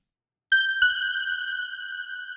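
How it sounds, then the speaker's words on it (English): A bell-like synth patch from the Granite synthesizer strikes after a short silence, a second hit following quickly, then rings out with sustained, clear tonal overtones slowly fading. "No sharp edges, but a lot going on, so it has that kind of unpredictable bell sound."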